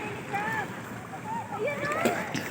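Water splashes from someone swimming, soft irregular sloshing and splatter at a moderate distance, with voices talking over it throughout.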